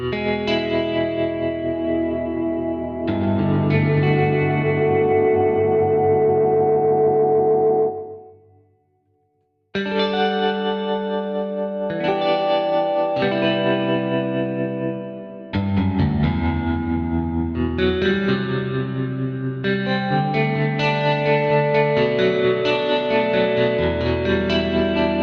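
Desolate Guitars Fragment guitar samples ring out as sustained notes and chords soaked in reverb and delay, with long trailing tails, a short silent gap partway through, then further layered phrases.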